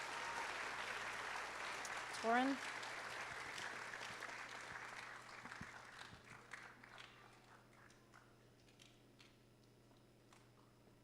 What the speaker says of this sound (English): I want you to give them some thunderous applause